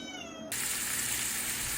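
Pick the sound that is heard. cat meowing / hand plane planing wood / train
cat meowing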